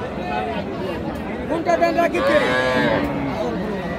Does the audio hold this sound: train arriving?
no